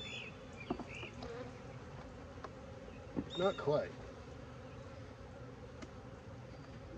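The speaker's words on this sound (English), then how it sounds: "These are noisy bees too." Honey bees hum in a soft, continuous drone during a hive inspection, close and quiet, while a person briefly speaks partway through.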